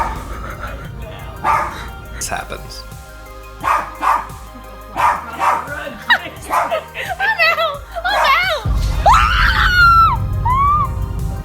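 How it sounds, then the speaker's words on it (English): A small dog barks and yips repeatedly in sharp bursts, some rising into whining squeals, with a person speaking briefly among the barks. "But the dog keeps barking for a while."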